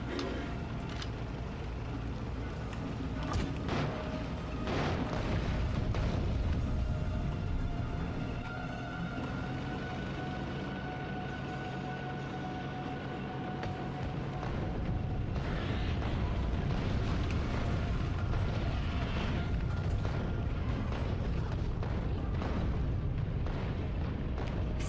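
Cannons in the video game Factorio pound enemy nests in a dense, continuous barrage of loud booms and rumbling blasts for about 25 seconds, with no pauses between impacts.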